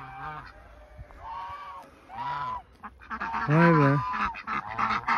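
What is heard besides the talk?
Chinese geese honking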